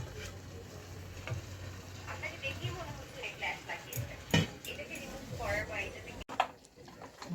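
Yogurt-marinated mutton going into a pan over a low flame, with a soft, steady sizzle and occasional stirring scrapes as someone talks over it.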